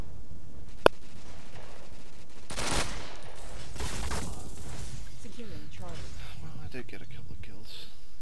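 Gunfire in the video game Ghost Recon: a sharp shot early on, then bursts and rattling fire through dense, busy game sound beneath talking players.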